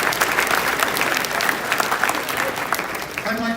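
Applause from a crowd at an opening ceremony for public safety workers: dense, loud clapping continuing throughout, with a brief voice or tone near the end.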